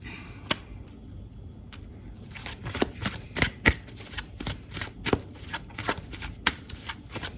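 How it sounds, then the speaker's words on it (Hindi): Tarot cards are shuffled and drawn close by, giving a series of crisp riffling snaps and slaps in an uneven rhythm. The sound is faint to moderate and heard without talk. "कुछ और कार्ड्स निकालूंगी मैं।"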